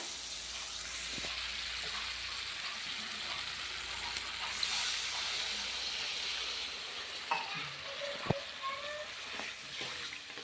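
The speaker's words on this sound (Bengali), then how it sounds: "এখানে মশলা কষানো হয়ে গেছে তেলও ছেড়ে দিয়েছে এর মধ্যে দিয়েছে আদা রসুন বাটা" Ginger-garlic paste and spices fry in oil for a fish curry, giving a steady close hiss and sizzle with occasional light clinks and taps of a spatula against the pan.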